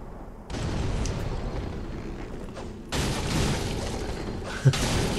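A bomb explodes in Dark Souls 3 PvP combat, a rumbling blast that swells twice into a sustained roar with a sharp thud near the end.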